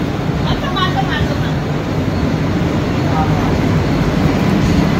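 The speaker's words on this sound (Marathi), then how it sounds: "ही आहे मुंबई AC लोकल" A Mumbai AC local train runs with a loud, continuous rumble and rush of wheels on rails, heard up close throughout with people talking over it.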